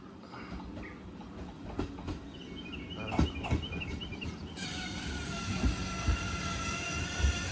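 A train rolls past at a small station among narrow streets in Matsuyama, Japan, with rhythmic clacking and rumbling, then a high whine joins the steady hum of the carriages.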